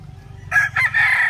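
A young gamecock stag crows close by, a short, loud, ragged call in a few bursts over a low background hum.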